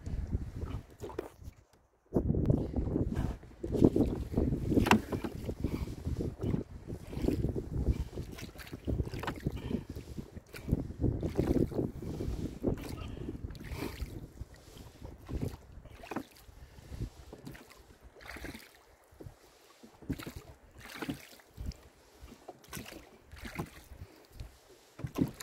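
Oars working a rowboat on a creek in the evening: rhythmic splashing and creaking strokes up close, with gusty wind buffeting the microphone and a faint dog bark somewhere.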